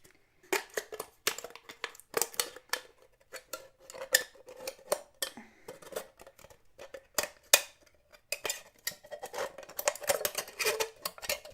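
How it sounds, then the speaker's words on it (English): Scissors snip and crunch through a thin metal can in a run of uneven, sharp cuts with brief pauses between them, close and fairly clear, with no voices over them. "I'm going to be cutting the can with the scissors."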